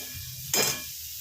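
Chopped tomato tipped into a hot pan of paneer bhurji with gram flour, a single sudden loud sizzle that flares up and settles back to a quiet background fry.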